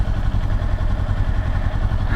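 Motorcycle engine with no exhaust fitted, running steadily with a low, rough, clattering drone close by and no talking.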